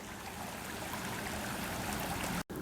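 Water at a lake ringed by swamps at night, a steady close stream-like trickle and gurgle running continuously before cutting out abruptly near the end.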